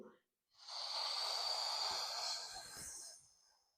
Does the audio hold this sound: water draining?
no